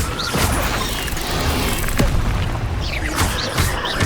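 Blasting curse explosions going off in Hogwarts Legacy combat, a deep booming burst followed by crackling debris, with further impacts and magical whooshes layered close and loud.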